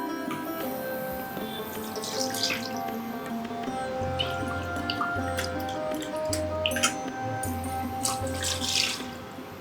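Room-temperature water, two cups of it, pours into a hot pan to start modak dough, a close, steady splashing trickle with faint drips and light ticks and no talk.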